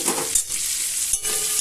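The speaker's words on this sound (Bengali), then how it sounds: "মশলাও কষা হবে, মটরশুঁটিটাও ভাজা হবে।" Green peas fry with cumin, coriander and turmeric powder in a pan for Bengali aloo dum, a steady close sizzle broken by a couple of stirring scrapes.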